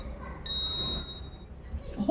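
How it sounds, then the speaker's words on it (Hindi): A small ritual hand bell at a Hindu Ekadashi Udyapan ceremony gives one clear, bright ding that rings on and fades over about a second, with talk and ambient room noise around it. "बेटा अंदर से घंटी ले आओ। हाँ घंटी है।"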